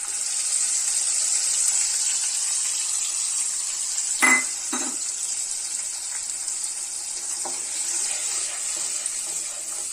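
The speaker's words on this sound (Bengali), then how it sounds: "এবারে আমি টমেটোর পিউরেটা ঢেলে দেবো" Tomato puree frying in a pan, a steady bright hiss of sizzling with a couple of sharp clinks of a utensil midway, close and continuous, no speech.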